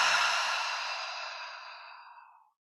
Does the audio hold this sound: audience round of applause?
no